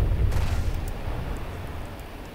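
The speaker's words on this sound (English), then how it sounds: "The bombs are a nice touch, though. Glide bombs." Missiles and glide bombs detonating in a video game battle produce a deep, rumbling explosion that swells briefly and then fades into a sustained low roar. Faint crackles sit over it, and no one talks.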